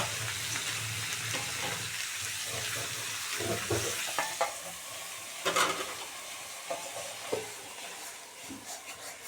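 Soybeans, potatoes and tomatoes fry in a pan, a steady close sizzle with repeated scraping and clattering stirs that grow more frequent toward the end.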